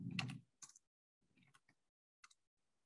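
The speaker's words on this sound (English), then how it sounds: "I'm gonna type correlation" Keys on a computer keyboard are tapped in a few short, separate bursts of clicks against near silence, close and fairly quiet.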